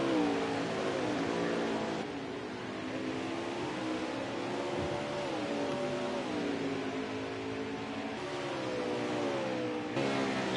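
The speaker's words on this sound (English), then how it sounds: "When he cooks it through that corner, it's going to allow Bear into the fray" Racing trucks of the Redline Racing League accelerate through a corner at Mid-Ohio, several engines roaring loudly and continuously with rising and falling revs as they pass, no talk over them.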